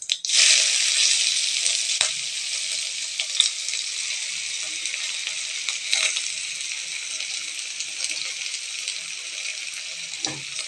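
Chopped shallots hit hot oil after mustard seeds have popped, setting off a loud, steady sizzle and crackle close by, with a few scraping stirs and no talk.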